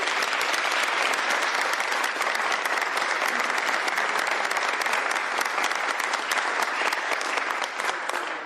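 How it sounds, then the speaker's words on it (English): A crowd at a bill signing claps for a group of state legislators, a loud, sustained round of applause that stays even throughout and tapers slightly at the end. "Give them all a round of applause."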